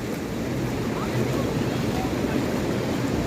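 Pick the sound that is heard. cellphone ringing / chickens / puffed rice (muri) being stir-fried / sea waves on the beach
sea waves on the beach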